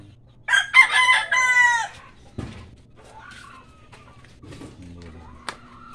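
Chickens on a farm with a rooster crowing loudly and close at the start, followed by scattered clucks and softer fowl calls over quiet background.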